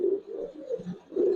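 Silver Beji pigeons coo close by in a short run of soft, throaty, rolling calls, three or four pulses in quick succession with brief dips between them.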